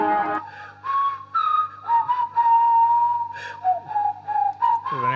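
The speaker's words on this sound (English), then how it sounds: "the whistling maybe can be a vibe" A whistled melody, treated with auto-tune and triple-tracked as part of a music track, plays as sustained tonal notes with slides between them, steady and upfront with no talking.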